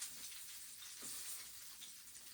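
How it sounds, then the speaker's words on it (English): Bullfrog legs frying in a pan until golden brown, a soft, steady hiss and sizzle with faint stirring, quiet and continuous with nobody speaking. "Now, we'll just have to fry the rest of them."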